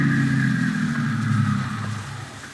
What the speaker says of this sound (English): No, there's a car out there.